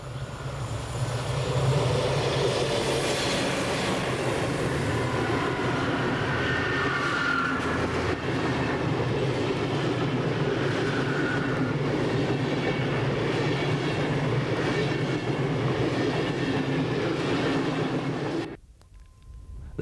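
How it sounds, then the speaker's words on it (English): Long-distance express train hauled by a Class 103 locomotive along the Rhine, a steady loud rolling rumble with rail clatter lasting nearly the whole stretch before cutting off abruptly near the end. "The long-distance expresses, such as the Rheinfile from Chur to Hanover, are most often hauled by the new Class 103 locomotives."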